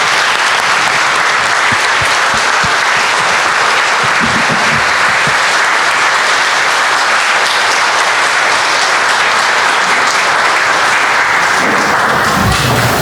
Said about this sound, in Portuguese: Vamos recebê-la com uma salva de palmas.